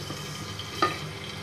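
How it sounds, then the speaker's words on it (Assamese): Curry leaves spluttering in hot oil in a pan, a continuous close frying hiss with a single sharper pop midway through, with no talk. "নহ'লে এই নৰসিংহপাত পানী লাগি আছে যে বহুত জোৰে ফুটিব"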